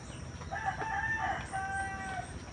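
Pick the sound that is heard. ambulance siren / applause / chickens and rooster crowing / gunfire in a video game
chickens and rooster crowing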